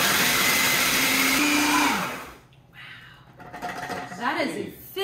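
A food processor grinds graham crackers in a loud, steady whir for about two seconds, then cuts off, followed by softer clatter and people talking.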